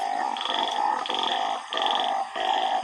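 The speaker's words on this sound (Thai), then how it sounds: "นี่คือเสียงอึ่งนะครับ" A steady chorus of narrow-mouthed toad calls with repeated buzzy bleats in regular bursts, loud and close, no talking.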